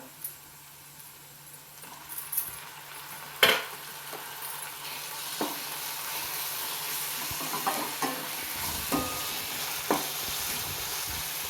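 Ginger garlic paste fries with onions in a pan for kurma, giving a steady sizzle and hiss with occasional spoon scrapes and a louder clatter early on, and no voices.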